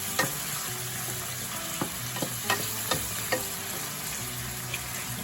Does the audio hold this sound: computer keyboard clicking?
no